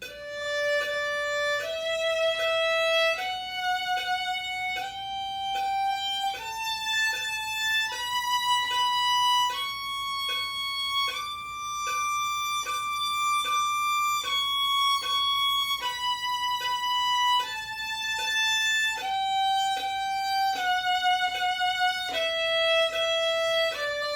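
A violin plays a slow, clean stepwise finger pattern in third position, rising and then falling through sustained bowed notes, each held about a second, clear and close with no talking.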